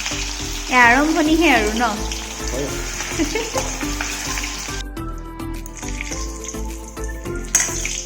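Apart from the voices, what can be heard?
potatoes frying in a pan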